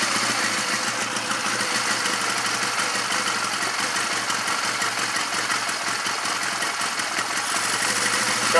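A Honda CM200T Twinstar motorcycle engine idles steadily right after starting, a close, continuous mechanical hum with fine rapid ticking and a slight vibration that holds an even level throughout.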